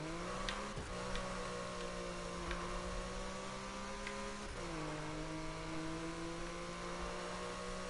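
Porsche engine in the Need for Speed 2015 racing game, a steady droning hum that dips in pitch twice as if shifting gears, with faint tyre noise underneath and no voices.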